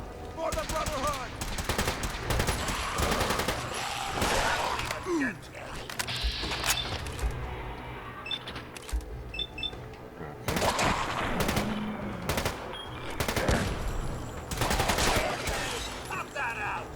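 Gunfire in the video game Fallout 4: repeated bursts of rapid automatic shots and scattered single shots crackle throughout, mixed with mechanical clanks and occasional voices.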